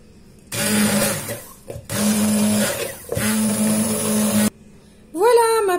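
A blender mixing a salad dressing made with soy sauce, pepper and salt, running loudly in three bursts of whirring separated by short pauses, followed by a brief higher-pitched whine at the end.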